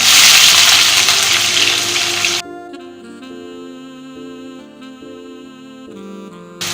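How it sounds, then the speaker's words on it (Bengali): Sliced onion dropped into hot oil already sizzling with cumin, cinnamon, cardamom and bay leaf, a loud crackling fry for the first couple of seconds that then settles into a quieter steady sizzle. "আমার এটা ভাজা হয়ে গিয়েছে এখন আমি দিয়ে দিচ্ছি পেঁয়াজ"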